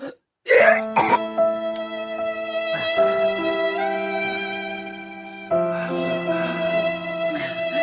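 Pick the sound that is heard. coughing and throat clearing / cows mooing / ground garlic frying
coughing and throat clearing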